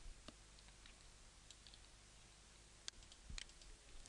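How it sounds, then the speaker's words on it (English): A few scattered keyboard key clicks, sparse and irregular, over a quiet steady hiss. "I'm controlling that by pressing the keyboard"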